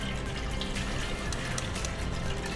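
Water pours steadily into a pot to make a quick maida payasa, a continuous close rushing splash with no pauses.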